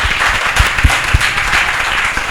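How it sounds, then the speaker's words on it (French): Audience applauding two schools after a student debate between a technical lycée and a college; loud, close, continuous clapping with a few sharp low thumps standing out near the start. "j'aimerais qu'on les applaudisse encore une fois de plus"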